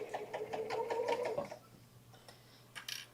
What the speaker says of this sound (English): what I noticed when we were teaching the class is just how quiet these sergers are